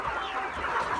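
A Lohmann Brown laying hen clucks close by in a short, continuous burst of soft throaty sounds.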